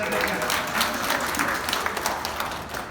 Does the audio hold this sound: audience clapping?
yes